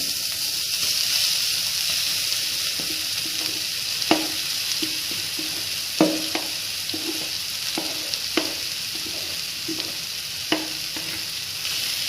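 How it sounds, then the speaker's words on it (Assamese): Pumpkin frying in ghee in a hot kadai: a continuous sizzle with a dozen sharp scrapes and clacks of the spoon against the pan at irregular intervals, close and clear, no voices. "মই এতিয়া ঘিউখিনি দি পেলাই এয়া ৰঙালাওখিনি দি দিছোঁ।"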